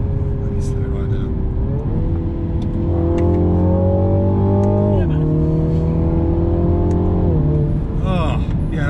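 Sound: 2020 Mini Clubman JCW engine while driving

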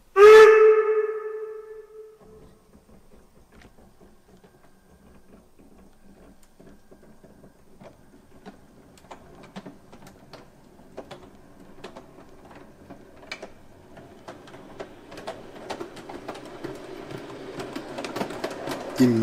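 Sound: gauge 1 model steam locomotive 18 201 running on test track

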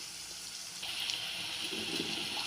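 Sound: water sprinkled over snake gourd stir-fry in pan

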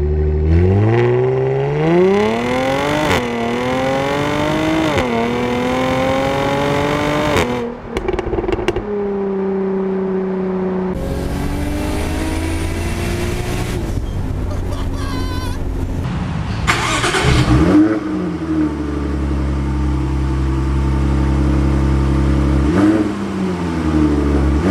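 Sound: Jaguar F-Type convertible engine revving while driving

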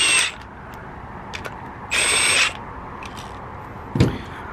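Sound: screws being tightened on Toyota RAV4 grille

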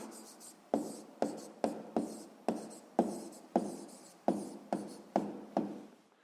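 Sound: pen writing an answer on paper

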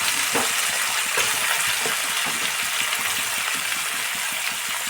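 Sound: beans and eggplant frying with salt and turmeric

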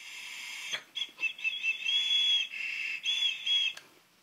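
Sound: whistling draw through a new Canadian-shape tobacco pipe

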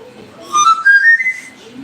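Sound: whistling

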